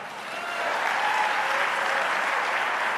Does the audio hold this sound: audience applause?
yes